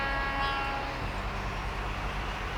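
A steady, dense rumble of a train running in the Railroad Tycoon 3 video game fills the whole stretch at an even level, with no voices over it.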